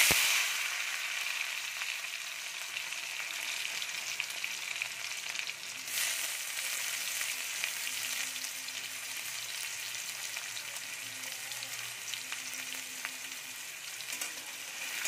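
Chopped onions and tomatoes sizzling in a pan, a steady moderate frying hiss with occasional faint stirring scrapes, no voices.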